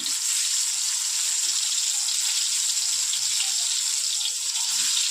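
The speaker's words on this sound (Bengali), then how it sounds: "এদিকে তেলটা গরম বসিয়ে দিয়েছি, আর বেগুনগুলো এক একটা করে দিয়ে দেবো" Eggplant slices fry in hot oil, giving a steady, bright hiss and crackle that holds evenly for several seconds at moderate loudness, with no talking over it.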